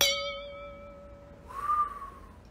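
A wine glass struck once rings out with a clear, pure tone that decays over about a second and a half, followed by a softer, higher squeal or whistle, quiet overall.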